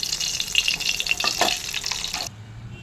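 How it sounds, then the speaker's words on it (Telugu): Green chillies fry in hot oil in a pan with a bright, continuous sizzle and a few stirring scrapes, close and loud, cutting off abruptly near the end. "పచ్చిమిర్చి వేగిందండి, పక్కకు తీసుకుందాం."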